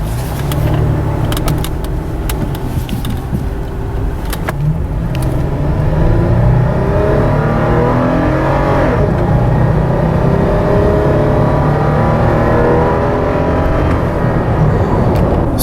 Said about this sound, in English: I'm just going to turn out of this neighborhood and gun it and see if I can time it